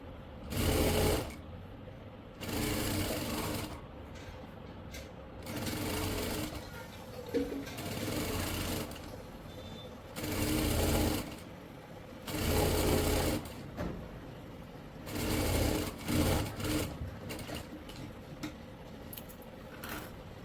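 A sewing machine stitching a ban collar onto a kurti, running in repeated short bursts of rapid mechanical whirring and clatter separated by quiet pauses, heard close.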